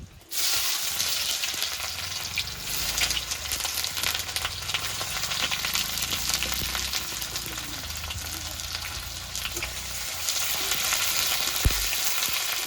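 Chopped onion fries in hot oil with two chillies, two bay leaves and whole cumin, a loud, steady sizzle that keeps up without a break, with a few stirring clinks and no voices.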